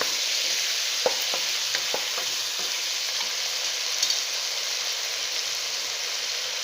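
Masala with yogurt for paneer biryani sautés in a pan with a loud, steady sizzle close by. A few sharp stirring clicks land near the start, and no one speaks.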